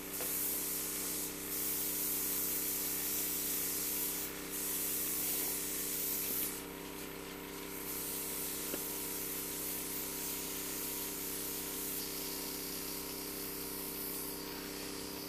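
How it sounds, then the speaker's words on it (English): An airbrush makeup system sprays into a cloth with a steady, continuous hiss that runs close and even for a long stretch, changing only slightly in texture along the way. "spray into the cloth until it's empty"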